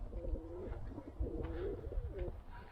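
White Van pigeons preparing a nest in a loft coo in soft, rolling, repeated phrases, close by over low background rumble and faint rustling, with no talking.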